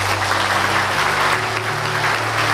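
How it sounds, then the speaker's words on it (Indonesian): A crowd claps steadily, a dense patter of many hands at moderate distance, with a faint low hum underneath and no one speaking. "Sekali lagi beri tepuk tangan."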